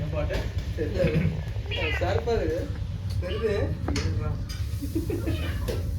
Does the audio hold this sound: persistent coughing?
no